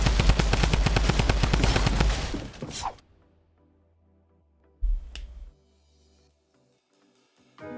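Drum gun firing in Fortnite: a loud, rapid automatic burst lasting about three seconds, then quiet, then a second short burst with a shot echoing through the game.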